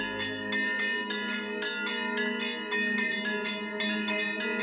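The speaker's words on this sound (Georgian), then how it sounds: "აქ ზარების ნაცვლად ფოლადის კასრები გუგუნებენ." Steel barrels ring in place of church bells at a military post, giving bright, metallic tones with long ringing overtones, struck about once a second and sustained throughout, with no voices.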